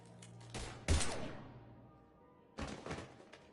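Two separated bursts of gunfire in Mass Effect 3, first a couple of heavy booming shots that ring out and decay, then after a pause another cluster of shots, fairly quiet overall.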